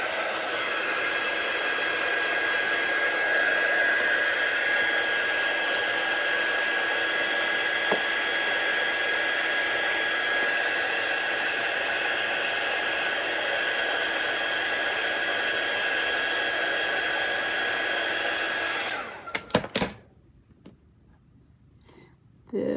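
Hand-held blow dryer running steadily and loudly on an Easter heat-transfer design, a constant broadband whoosh with a steady whine, shutting off near the end followed by a few faint handling clicks.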